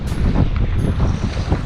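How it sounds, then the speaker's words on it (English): Strong wind roars over a lake during a storm, buffeting the microphone with a heavy, continuous low rumble and gusty surges, with water sloshing beneath. "I'll go ahead and show y'all a small clip of this wind"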